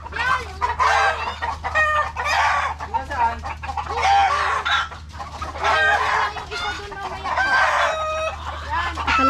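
A flock of chickens clucks busily while a rooster crows repeatedly, close and loud, over a low steady background hum.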